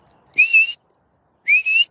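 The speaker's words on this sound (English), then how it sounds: "See if my whistle will work" Two shrill, slightly rising whistle blasts are blown outdoors on a farm to call animals, each about a third of a second long and separated by a pause, clear and close with nothing else around.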